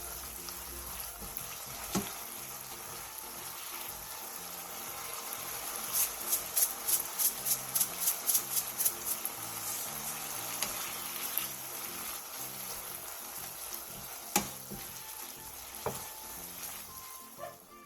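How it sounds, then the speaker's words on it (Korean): Braised burdock root with sesame seeds being stirred in a pan, a steady sizzle with soft scraping and a brief run of quick clicks partway through, no talking. "국물이 자작하게 졸아들었으면 통깨를 넣고 가볍게 뒤적여 마무리해주세요."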